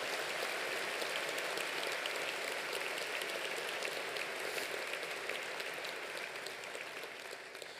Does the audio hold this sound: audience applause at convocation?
yes